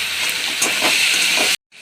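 Tomato paste hitting a hot buttered pan for butter paneer gives a sharp, loud hiss of sizzling and steam that cuts off abruptly near the end before faintly returning.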